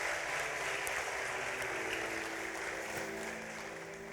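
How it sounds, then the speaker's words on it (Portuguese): A church congregation applauds during a Sunday sermon, a dense, steady wash of many hands clapping that fills the room and slowly fades slightly toward the end. "Pode aplaudir a Jesus, glória a Deus."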